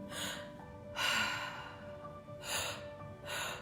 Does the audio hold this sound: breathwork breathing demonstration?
yes